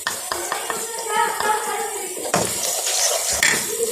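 A spoon scrapes and clinks against a cooking pot while turmeric, red chilli powder and salt are stirred and fried for turnip and potato curry, with irregular close taps and sizzling scrapes.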